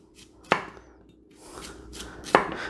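A kitchen knife slices sweet potatoes into thin rounds, giving two crisp, close cuts against a cutting board with quiet pauses between them.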